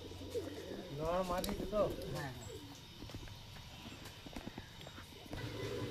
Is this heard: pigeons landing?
yes